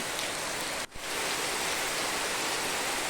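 Heavy monsoon rain pours steadily in a village, a dense, loud, even hiss that briefly dips just before the one-second mark and then resumes unbroken, with no voices.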